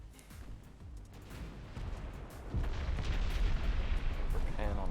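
Naval guns fire in Ultimate Admiral Dreadnoughts, heard as a rumble of low booms and bursts under steady game noise, with someone talking faintly over it.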